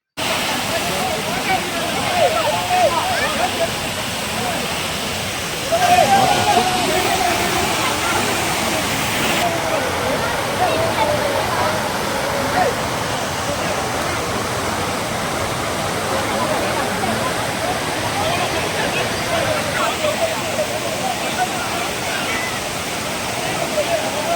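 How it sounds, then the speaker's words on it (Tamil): Kumbakarai waterfall in Theni roars steadily as a dense, unbroken rush of falling water, loud and close throughout. "அருவிய நெருங்கிட்டோம்."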